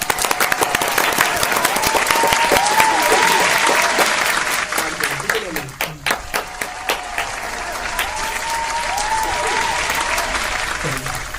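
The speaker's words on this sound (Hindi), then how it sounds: "तालियां।" Sustained clapping from a village gathering welcoming a sarpanch, loud and dense for most of the stretch, thinning into scattered claps near the middle before swelling again.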